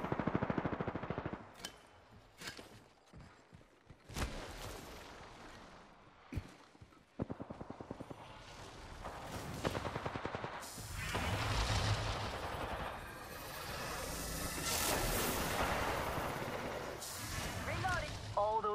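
Gunfire from Apex Legends, with bursts of weapon shots and heavy booms that build into dense, loud, sustained firing in the second half, mixed with game effects and a voice talking.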